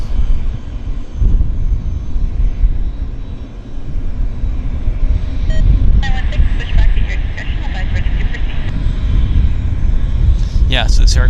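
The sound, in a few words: aircraft at Vancouver airport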